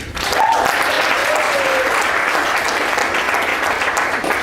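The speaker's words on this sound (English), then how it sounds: "So I want to give him a huge round of applause." Sustained audience applause at a fall banquet, steady and fairly loud throughout, with a brief whistle-like tone early on and no distinct talk.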